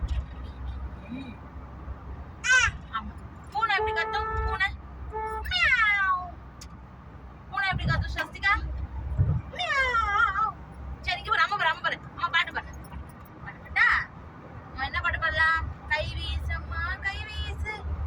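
A person imitates a cat meowing, giving a series of drawn-out vocal meows with pauses between them over constant vehicle rumble during a family trip to a temple, with other talk mixed in.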